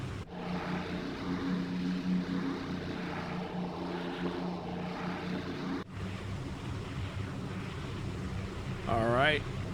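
Propeller engines of a B-24 Liberator in a flight simulator game roar at full power for takeoff, a steady loud drone with a brief break midway and a rising whine near the end.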